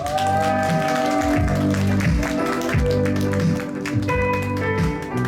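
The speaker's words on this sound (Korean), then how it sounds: "한분한분 한 분 소개될 때마다 큰 박수로 환영해 주시면 감사하겠습니다." Audience applause welcomes guests being introduced at an outdoor family concert in a theme park, steady clapping blended with loud tonal background music throughout.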